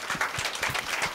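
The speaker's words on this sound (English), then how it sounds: "Make una clap for him first." Studio audience clapping for a caller on a Nigerian radio call-in programme, a quiet scattered round of hand claps with faint background voices.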